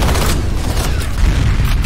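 Grenade explosion in F.E.A.R. Combat, a loud deep booming rumble that fills the whole short span with dense low-end roar and scattered crackle.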